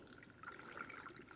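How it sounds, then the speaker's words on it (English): Pre-wash solution is poured into a film developing tank for hand-processing 16mm film, a steady, soft trickle of liquid running continuously at low volume with no voices. "I'm just going to start and pour in our pre-wash."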